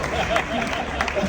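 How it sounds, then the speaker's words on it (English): Theatre audience aboard a cruise ship clapping for performers taking a bow, a moderate steady patter of applause mixed with crowd murmur and voices. "Give them a big round of applause."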